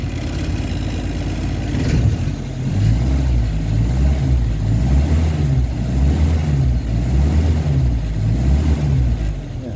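Freshly overhauled Toyota 3A-U engine on a test run, revving up from a steady idle into repeated rising and falling surges, loud and close with no talk.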